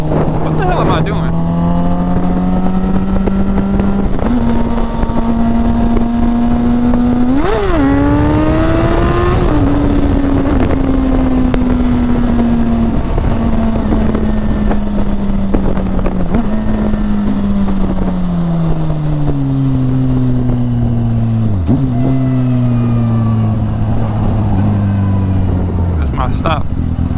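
Motorcycle riding on the road, its engine loud and close with pitch rising and falling through gear changes and throttle, steady wind buffeting the microphone, and a rider's voice heard intermittently over it.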